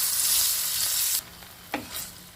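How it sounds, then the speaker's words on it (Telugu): Cumin and sesame seeds lightly roasting in a pan for a chutney give a steady, close sizzle that suddenly drops to a quieter crackle, broken by a brief stirring scrape. "1 స్పూన్ జీలకర్ర. ఇవి లైట్గా వేయించుకోవాలి."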